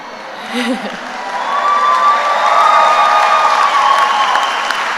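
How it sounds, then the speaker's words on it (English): Audience applause and cheering swell at a College of Education spring commencement ceremony, starting faint and building into a steady, broad wash of clapping with a few shouts, sustained for several seconds. "we encourage you to applaud and cheer when you wish"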